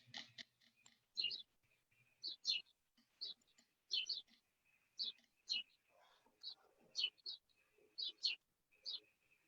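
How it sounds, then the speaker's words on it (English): Birds chirping softly, a run of short, high, repeated tweets in quick irregular bursts, quiet and somewhat distant, with no talking. "I got the birds chirping."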